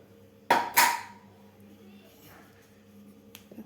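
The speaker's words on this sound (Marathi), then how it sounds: "तर आता आपण झाकण काढून बघूया" A pressure cooker lid is lifted off the pot of cashew and pea pulao with a sharp metallic clank and scrape, followed by quieter handling sounds and a small knock near the end.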